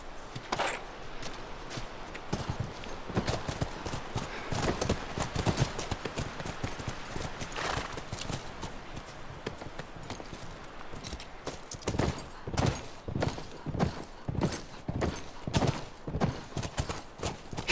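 Horse hooves in The Last of Us Remastered clip-clop in a steady walking rhythm, with occasional louder bursts and a brief whinny, no talking.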